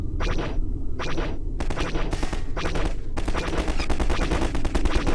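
Rapid bursts of loud, punchy gunfire in short volleys with brief gaps, then a longer continuous stream of shots from a Star Wars blaster weapon in Garry's Mod, with a slow fire rate.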